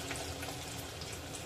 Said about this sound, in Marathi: भजी घालून घेऊया. छोटे छोटे गोल घालायचे आहेत.